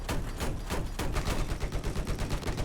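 Rapid bursts of video game gunfire fill the scene in a multiplayer shooter with dam and boat settings, dense cracking shots stacking into fusillade-like volleys at steady, loud volume without a pause.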